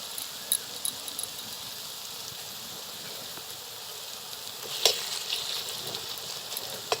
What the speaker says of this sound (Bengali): আদাটা একটু ভেজে নিতে হবে।